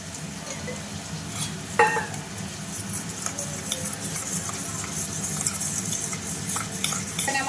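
Spice paste being fried in oil in a pan for a Bengali vegetarian banana-flower curry, with a steady sizzle, stirring scrapes and an occasional utensil clink against the pan. No one speaks.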